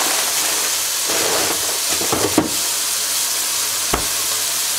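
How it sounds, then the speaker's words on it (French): Spoon stirring thyme through a sizzling pot on the stove, a steady frying hiss throughout with a few scraping stirs in the middle and a sharp clink near the end. "Je vais mélanger."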